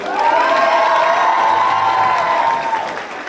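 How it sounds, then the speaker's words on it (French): Loud crowd cheering and applause for a cosplayer on stage at a cosplay contest, steady and sustained with high whoops and shouts riding over the roar before it eases off near the end. "Vous l'applaudissez bien fort, s'il vous plaît."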